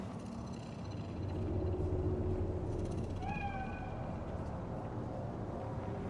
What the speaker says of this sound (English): Do you see it? That cat?